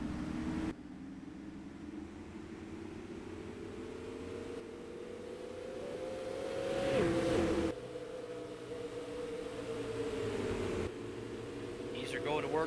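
Supermodified race cars in a sim racing game at Salem Speedway, engines droning steadily and rising in pitch as cars pass, under a commentator's voice.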